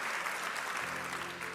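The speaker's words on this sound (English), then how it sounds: "Biggest non sequitur applause of the night" Audience applause at a Robert Downey Jr. speech, a steady wash of clapping from a crowd, moderately loud and continuous throughout.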